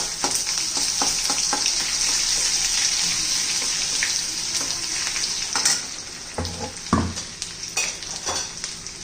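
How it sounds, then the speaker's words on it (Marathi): Ginger garlic paste sizzling in hot oil with mustard seeds and cumin, a close, steady frying hiss with crackles and stirring scrapes, quieting toward the end with a few louder knocks of a spoon. "जिरं मोहरी तडतडली का आला लसूण पेस्ट घालायची आहे"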